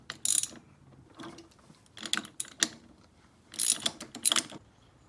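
Ratchet wrench undoing the clutch boss bolt on a 1986 Yamaha YZ80 engine, with several short bursts of rapid clicking separated by quiet gaps, close up.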